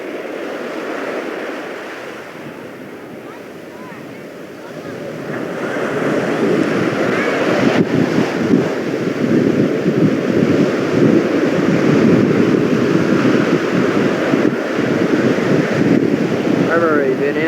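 Ocean surf washing onto a shore with gusting wind buffeting the microphone, a steady loud roar that swells after the first few seconds and continues throughout.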